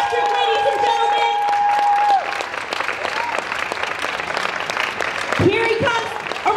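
A stadium crowd cheers and claps steadily for a 400m runner, with a loud sustained roar and a public-address voice briefly audible over it.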